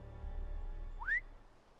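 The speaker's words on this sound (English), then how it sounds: "That was a weird way to whistle." A short rising whistle heard once over low background rumble in the video game Telltale Game of Thrones, brief and moderately clear.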